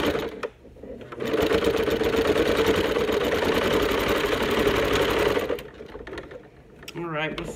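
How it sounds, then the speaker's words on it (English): A domestic sewing machine stitches steadily for several seconds at a fast, even rhythm, loud and close, then stops, with brief handling noises at either end. "Let's see if I'm sewing this. Yep, I'm sewing like a champ."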